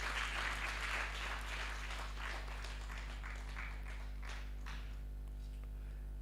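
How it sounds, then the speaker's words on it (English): Scattered audience clapping for survey executive director members at a formal signing event, faint and uneven, fading out over a low steady electrical hum. "Can we clap for ED members?"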